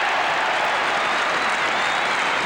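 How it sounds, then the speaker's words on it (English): Rugby crowd at a Barbarians versus Argentina match roaring and applauding after Craig Chalmers scores a try, a dense, steady wash of cheering and clapping close around, with no break. "The crowd are delighted."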